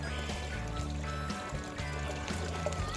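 Water pours and trickles steadily through a gravel sluice, a continuous splashing flow mixed with a low droning motor hum.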